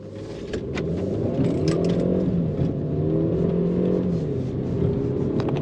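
A Mercedes in automatic Drive 1 accelerates hard from standstill toward 100 km/h, its engine note climbing steadily through rising gear tones, loud and close throughout with no talk.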